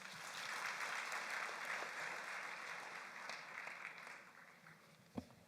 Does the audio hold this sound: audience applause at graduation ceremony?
yes